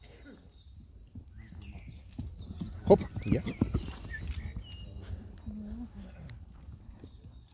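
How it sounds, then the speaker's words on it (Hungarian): A horse walks and begins to trot, hooves clip-clopping steadily at moderate distance, with a brief snort or whinny and people talking over it. "Egyre szebb ez a ló, még mindig nő."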